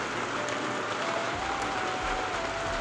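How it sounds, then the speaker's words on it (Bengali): Heavy rain falls outdoors as a continuous, even, crackling roar, loud and near, with nothing else standing out and no one speaking. "প্রচণ্ড বৃষ্টি হচ্ছে।"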